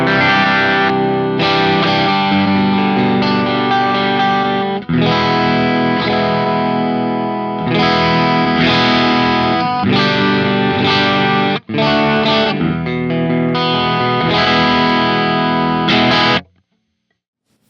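Electric guitar played through a Neural DSP Nano Cortex, switching every couple of seconds between a captured amp tone and its source amp, heavily distorted and loud, sustained chords and riffs with brief gaps, ending abruptly.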